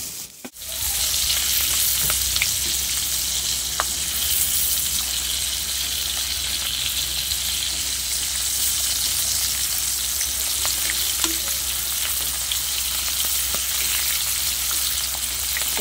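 Steady, hissing sizzle of dried fish frying in hot oil, continuous and close, with occasional small pops and no talking.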